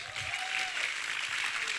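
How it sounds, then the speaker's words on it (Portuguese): Church congregation applause, a steady wash of many hands clapping at moderate distance, even and continuous throughout with a faint vocal tone underneath. "Salva de palmas."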